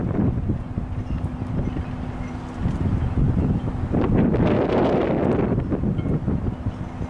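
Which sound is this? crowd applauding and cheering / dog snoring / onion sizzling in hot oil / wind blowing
wind blowing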